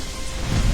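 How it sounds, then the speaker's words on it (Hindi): Heavy evening rain in a Hindi cartoon story, a dense, steady hiss of downpour that swells louder toward the end, with a low rumble underneath and no voices. "शाम को तेज बारिश होने लगी सो अलग।"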